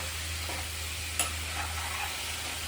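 Cashews and paneer fry in ghee with a soft, steady sizzle, quiet and close, marked by a brief utensil tap partway through, with no voices.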